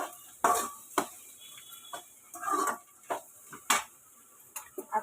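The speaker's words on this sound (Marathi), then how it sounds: "हे आपण आता सर्व मिक्स करूया, परतूया चांगलं, हलवूया" Potato sabzi stirred in a pan, a string of sharp close spatula scrapes and clicks against metal in an uneven rhythm over a quiet background.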